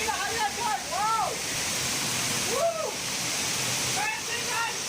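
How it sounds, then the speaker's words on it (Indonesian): A waterfall inside a tunnel in central Bengkulu roars as a steady, dense wash of rushing water, while a person talks excitedly over it. "Wow, ini air terjun lorong, guys, sangat mantap sekali."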